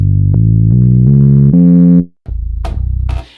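The Soft Thumper bass from the Expand synth plugin in Pro Tools plays a sine-like tone. It sounds as a sequence of loud, sustained low notes with a short gap before the last few, and a single spoken word comes near the end.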